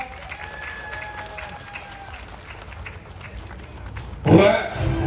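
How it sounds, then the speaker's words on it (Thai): Crowd applause at a Thai national buffalo show's young black bull class, light clapping under a whistling tone and background murmur, then a sudden louder burst near the end. "ขอเสียงปรบมือนะครับ"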